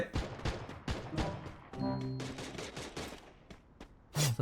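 Rapid bursts of automatic gunfire in the Free Fire battle royale game, loud and close, with short pauses between volleys and a final sharp burst at the end.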